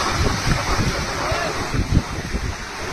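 Floodwater from the breached Ghaggar river embankment in Sirsa district rushes past in a loud, continuous roar, with a churning broadband wash and gusty wind noise on the microphone.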